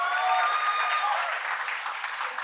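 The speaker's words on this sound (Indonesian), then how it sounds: "Banyak yang nonton, tepuk tangan dulu lah boleh." Warm applause from a theatre audience fills the room, many hands clapping steadily and fairly loudly, then fading slightly toward the end.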